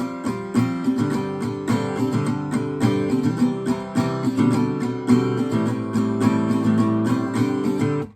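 Close acoustic guitar plays a full strummed passage from a verse of a song, a continuous run of rhythmic down-up strokes through several chord changes, alone with no voices.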